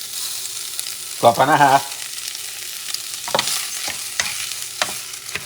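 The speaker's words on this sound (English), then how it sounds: "Let me add the rice," Rice tipped into a hot pan with salted pork and bok choy gives a sudden loud sizzle and scraping stir, then quieter frying crackle with intermittent utensil scrapes; a voice speaks briefly.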